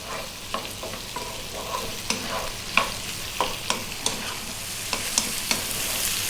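Thin-sliced carrots stir-fried in a pan over medium heat give a steady sizzle, with a dozen or so sharp scraping clicks from the utensil at irregular intervals, close and alone.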